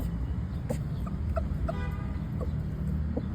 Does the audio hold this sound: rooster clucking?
yes